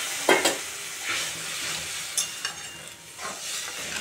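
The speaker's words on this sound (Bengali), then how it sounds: "আমি এখন জল দিয়ে দিব।" Frying lentils sizzle in a pan after water is poured in, with a soft steady hiss and a few sharper bursts of spatter and scraping stirs, close by and fairly quiet.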